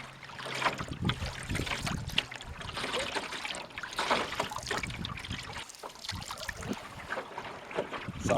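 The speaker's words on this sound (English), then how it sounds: "I'm paddling against the tide that's coming up" Open canoe paddled against an incoming tide on the River Dart estuary, with repeated close splashes and dribbles of paddle strokes, water lapping at the hull and wind buffeting throughout.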